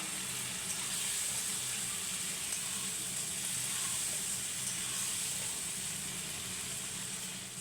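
Fried potato pieces added to a pan of spice masala with poppy seed paste while cooking a Bengali banana kofta curry, a steady close sizzle that hisses continuously throughout, no talk.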